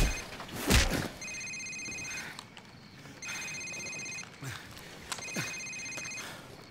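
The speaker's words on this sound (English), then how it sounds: "Sir, it's his cell phone." A cell phone rings in Call of Duty 4: Modern Warfare, sounding three times in bursts of repeated electronic trills at a moderate level over a noisy, rumbling game background.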